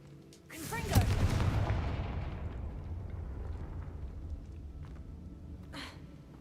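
The Confringo explosive spell from Hogwarts Legacy goes off as one sharp blast, then trails into a long rumbling decay, with a fainter burst near the end.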